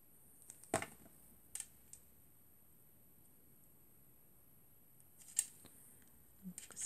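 Scissors snip paper for a birthday card, a few sharp crisp cuts spaced apart, close and clear against near silence, with no speech.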